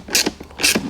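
A 12 millimeter socket wrench ratchets a bolt on a 1967 Camaro, two quick bursts of close, loud clicking pawl action.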